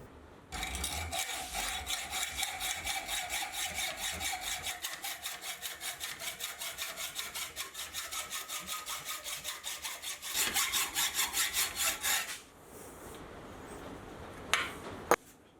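A hacksaw cuts through a steel offcut in steady, rapid back-and-forth rasping strokes that run for about twelve seconds, then stop, followed by a few faint clanks.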